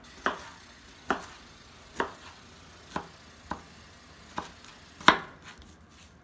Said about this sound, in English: The rest of this pepper I'll just go ahead and chop with my knife since I sliced it thin